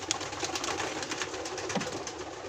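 Pigeons in a loft nesting on eggs, soft low cooing and faint rustling, close and quiet, without talking.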